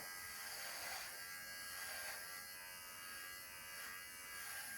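An electric clipper buzzes steadily for the whole stretch, trimming a dog's hair along its cheeks, a close, continuous motor drone that rises and dips slightly in pitch as it presses against the coat.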